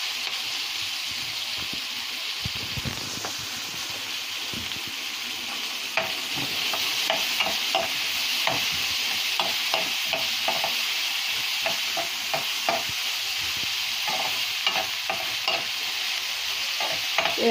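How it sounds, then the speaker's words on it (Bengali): Chopped onion and garlic sizzle in the oil left from frying sardines for a village-style curry, a steady broadband hiss broken by clicks and scrapes of stirring, close and without talk. "এখন এখানে আমি এই তেলের মধ্যে, মাছ ভাজা তেলের মধ্যে পেঁয়াজ রসুন দিয়ে দেব"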